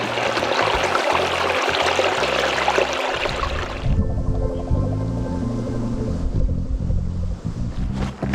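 A creek beside the Arnold Rim Trail, near Avery Sheep Ranch Road, rushes steadily with a broad hiss of flowing water. Wind buffets the microphone in low thumps, and the water grows slightly deeper and rougher partway through.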